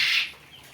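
A Tithi-breed chicken, two months old, gives a single loud, close cluck at the start, followed by faint farmyard quiet on a farm in Bakshiganj, Jamalpur.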